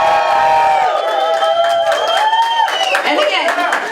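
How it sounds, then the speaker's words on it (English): A comedy show audience in Mudgee cheers loudly together, a dense roar of whoops, shouts and scattered clapping that swells and holds for several seconds. "So can you just cheer really loudly?"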